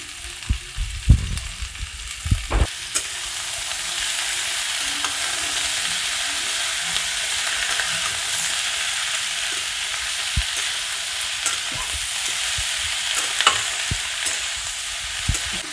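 Radish greens frying for a Bengali labra vegetable mix, a couple of heavy clunks at the start, then a long even hiss of sizzling oil with occasional faint stirring taps.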